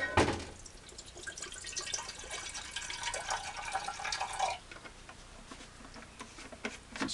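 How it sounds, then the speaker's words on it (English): Water is poured into a cook kit pot, a steady splashing trickle for about four and a half seconds, then fading to quieter drips and small knocks. "We'll pour his water in here."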